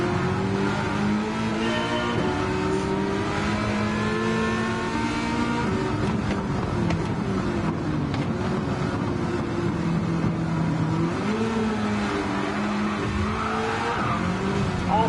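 McLaren race cars roar around the track in Gran Turismo 7, engines revving and shifting pitch as they accelerate and brake, with tyre squeal mixed in, a loud continuous racing din with no voices.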